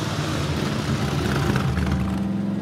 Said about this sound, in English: wait, let's start the engine